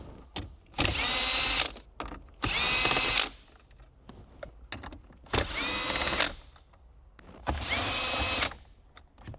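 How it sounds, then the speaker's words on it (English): Power tool removing 10mm bolts from the dash of a Lexus LS 460, running in four loud bursts about two seconds long with quiet gaps between them. "you can also use a power tool like what we're using right now."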